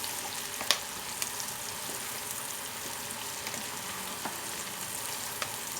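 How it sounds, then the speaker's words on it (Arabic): Vegetables for a turly casserole sautéing in ghee, a soft, steady sizzle and crackle with a few sharp pops and faint stirring clinks, fairly quiet and continuous. "وهبدا اشوح كده، اطلع ريحه الخضار بتاعي مع السمنه كده"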